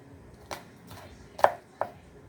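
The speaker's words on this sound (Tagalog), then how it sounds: "Iwa-iwain natin ang bawang." A knife chops garlic on a board in a few sparse, distinct strikes, the last two sharper and louder, in a quiet home kitchen.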